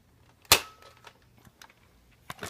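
A Nerf gun fires once with a sharp snap, then after a quiet pause two softer clicks and thuds follow as it misfires, close by with no talk.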